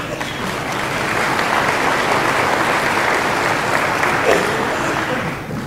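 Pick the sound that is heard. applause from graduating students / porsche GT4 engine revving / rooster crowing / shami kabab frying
applause from graduating students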